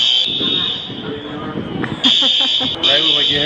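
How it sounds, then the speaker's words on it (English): A building's fire alarm sounds a loud, shrill, steady electronic tone that breaks off briefly and resumes, with someone talking over it. "Right when we get here, the fucking fire alarm goes off."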